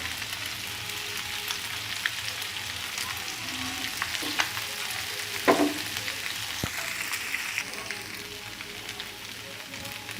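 Boiled noodles are tipped into a hot pan and stirred, giving a steady oily sizzle with occasional scraping and clinking of the spatula, close and continuous with no talk.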